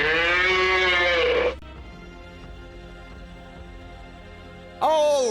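A cow moos in a video game, a long loud sustained low call, then a quiet stretch of game ambience before a second moo begins at the end.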